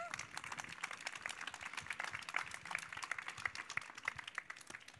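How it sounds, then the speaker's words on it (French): Audience applause at a conference session of ChangeNOW 2022, dense continuous clapping heard at a distance and fairly quiet, with no talk over it. "on les applaudit très fort"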